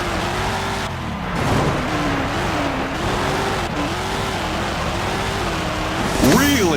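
A monster truck crushes cars in the Wii game Monster Jam: Urban Assault, its engine droning loudly and continuously with rising and falling revs, then ending in a sharp burst.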